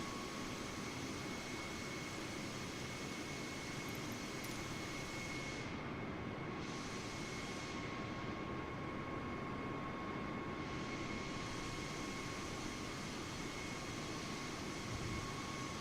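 Airbus A320neo jet engines on an Air Canada flight give a steady, droning cabin roar that stays even throughout, with no talk.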